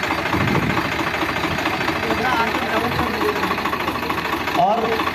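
A Sonalika Maharaja or Swaraj 744 FE tractor engine idling with a steady, knocking diesel chug that runs loud and unbroken, while people talk over it.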